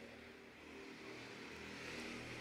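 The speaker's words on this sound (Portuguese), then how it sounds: "Espera a moto passar." A motorcycle passes at a distance, a faint engine drone slowly rising in level, heard alone.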